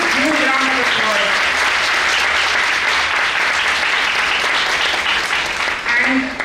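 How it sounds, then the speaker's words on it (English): Sustained audience applause for a conference panel, dense steady clapping throughout, with a voice talking briefly at the start and end over it. "And a huge round of applause in fact for the entire panel."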